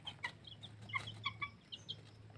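Young pet chicks fresh from an incubator peep in high, thin chirps, several in quick succession, faint and close over a steady low hum in their pen.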